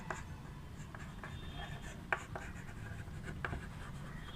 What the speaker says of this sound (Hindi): तो यहाँ पे लिख देंगे